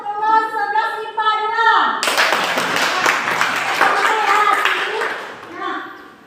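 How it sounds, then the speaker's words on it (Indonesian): Classroom applause for class 11 IPA 2 after group presentations: a brief spoken line, then a sudden burst of dense, loud clapping from many pupils lasting several seconds before fading back to a voice. "Sekali lagi tepuk tangan untuk kelas 11 IPA"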